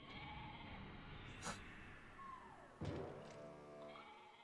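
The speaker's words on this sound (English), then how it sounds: "It's a drunken sheep." Drunken sheep in the video game Okami HD, a wobbly game-audio bleat amid background music, with a thud and a sharp burst partway through.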